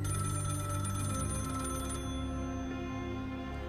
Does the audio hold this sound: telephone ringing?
yes